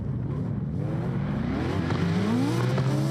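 A drift car's engine roars loud and close on a downhill section of the Springstone track, revs rising and shifting steadily throughout.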